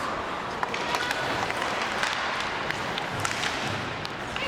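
Crowd noise at an ice hockey game between Mexico and New Zealand, with local fans cheering for Ukraine: a steady roar of cheering and scattered clapping, fairly loud and continuous.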